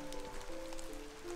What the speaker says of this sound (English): And right now it's raining.